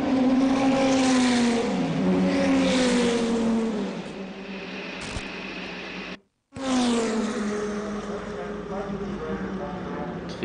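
A Mercedes-Benz CLR race car pulls back onto the track, its engine climbing and shifting through rising revs. The sound is loud and close, with a brief dropout midway, and a commentator talks over it.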